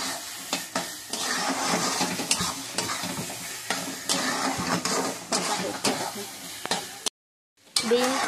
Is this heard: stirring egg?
yes